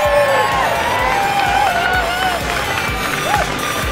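A roadside crowd at a women's cycling race cheers and applauds steadily, a broad wash of clapping and whoops that carries on under an amplified announcer voice.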